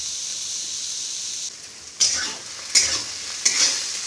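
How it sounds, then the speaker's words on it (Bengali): Eggplant fries in a pan with a steady, close sizzle, broken by three brief scraping stirs that raise the crackle. "বেগুনটা ভালো মতো ভাজা হয়ে গেছে"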